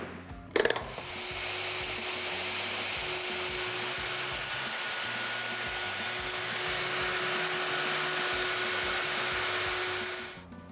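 A power router cutting wood along a template for a bedside table whines steadily for about ten seconds after a sharp start-up click, a constant high-pitched machine hiss with no talking.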